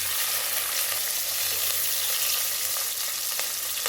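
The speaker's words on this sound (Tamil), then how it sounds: "கடாயில் எண்ணெய் விட்டுருக்கேன் தாளிப்புக்கு சோம்பு போட்டுக்கலாம் இப்போ பொரிஞ்ச ஒரு நேரத்தில் வெங்காயம் போட்டுக்கலாம்" Oil fries fennel seeds and onions in a kadai for a curry leaf chicken dish. A dense, even sizzle carries steadily through the moment with faint stirring clicks and no speech.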